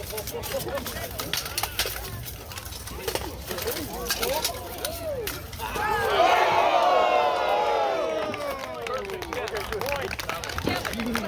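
A crowd cheers and shouts at a Renaissance fair armored sword fight, swelling into a loud burst midway before easing off, with voices and chatter nearby throughout.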